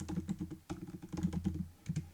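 Close, rapid keystrokes on a computer keyboard as conditional statement code is typed, with a brief pause in the middle of the burst.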